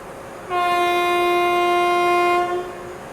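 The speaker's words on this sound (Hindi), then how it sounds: "तो डिपार्चर हो चुका है कोटा से।" The Rajdhani Express blows a long, loud, steady horn as it departs Kota junction. The sustained blast lasts about two seconds before it cuts off, with rail noise underneath.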